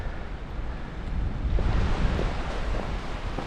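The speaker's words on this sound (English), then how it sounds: "we have the ocean right here on our right. There it is, the Pacific." Steady Pacific Ocean surf rolling in nearby at Rialto Beach, Olympic National Park, among sea stacks, a broad continuous wash that swells midway, mixed with gusty wind buffeting the microphone.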